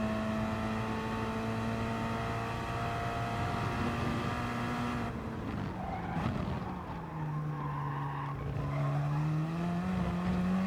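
Gr.4 race cars lapping Laguna Seca in Gran Turismo Sport give a sustained, loud tire squeal over steady engine drone, with the screech rising and shifting pitch through the corners.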